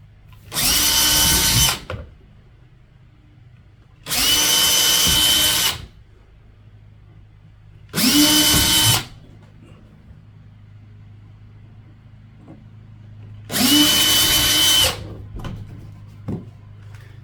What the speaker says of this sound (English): I'm going to drill my first 4 pilot holes, and then I'm going to drill the main hole